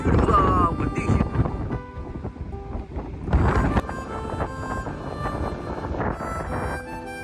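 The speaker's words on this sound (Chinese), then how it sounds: "外面的大风啊，越来越大呀。" Strong, cold wind at a seaside campsite buffets a small towed travel trailer, roaring in uneven gusts right against the microphone, with a voice briefly audible underneath.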